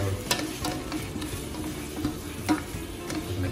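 Onion and tomato sauté in a pan with a soft, steady sizzle, broken by a few sharper scraping and stirring knocks from a utensil, quiet and close up.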